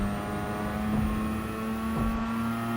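Engine note of a car in the Gran Turismo racing game, a steady sustained drone held at high revs while the car runs in fifth gear, loud and continuous throughout with no talk over it.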